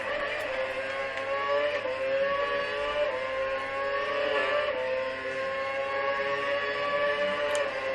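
A Red Bull Formula 1 car in the F1 2012 racing game at the Bahrain Grand Prix circuit, its engine holding a continuous high-pitched whine at steady speed, loud and close, with no talking.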